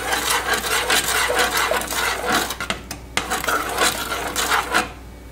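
A spoon scrapes around a pot of thickening Cream of Wheat farina hot cereal, giving steady close rasping and clinking strokes with short pauses, ending in a quieter tail.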